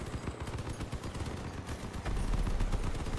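Vehicle-mounted weapons firing in the combat game Crossout, rapid dense bursts of gunfire in a continuous rattle that grows louder and heavier toward the end.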